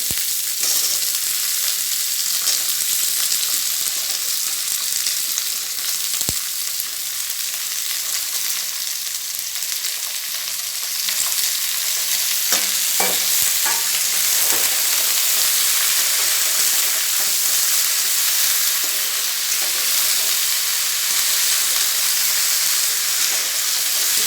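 Bitter gourd being stirred and fried in a pan, a loud continuous sizzle close by with scattered scraping and knocking from the stirring, no voices.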